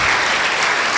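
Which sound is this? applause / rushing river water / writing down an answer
applause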